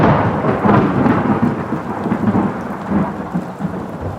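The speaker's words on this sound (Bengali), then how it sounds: "বিকেলে একটু বৃষ্টি থামলেও এখন আবার ঝিরঝির করে শুরু হয়েছে।" Heavy rain with rolling thunder, a radio drama sound effect, forms a loud, dense continuous roar with deep rumbles swelling and fading throughout, and no voices.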